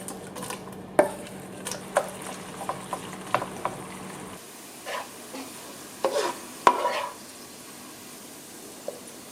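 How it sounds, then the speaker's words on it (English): Onions cooking in olive oil for käsespätzle, a soft sizzle under repeated sharp clacks and scrapes of a utensil against the pan, busier at first and then quieter and more sparse. "I'm going to be caramelizing the onions generously in olive oil so that they'll be crispy"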